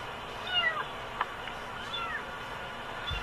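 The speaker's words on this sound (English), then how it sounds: "It sounds like a cat, but it's high enough to be a bird." A kitten meows from inside a car's engine bay, several thin, high, wavering cries spaced across a few seconds, moderately close and alone over a steady low background hum.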